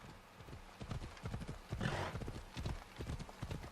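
Horse hooves clip-clop in an uneven rhythm in Assassin's Creed Odyssey while a horse neighs briefly midway, fairly quiet and close.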